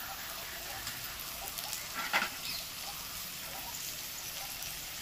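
Spices frying in a pan for egg rice made with quail eggs give a faint, steady sizzling hiss throughout, with a brief slightly louder flutter near the middle.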